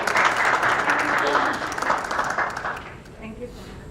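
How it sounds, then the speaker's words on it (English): Round of applause from the audience at an education leaders event, a dense burst of clapping that fades out over a few seconds, with a voice speaking underneath. "we held on to that round of applause for her"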